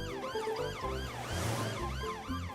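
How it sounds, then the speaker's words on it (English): Cartoon police car siren, a wailing two-tone sweep rising and falling repeatedly over a low musical backing, steady and fairly loud throughout. "It's Police Officer Panda in his police car coming to see if everyone's okay."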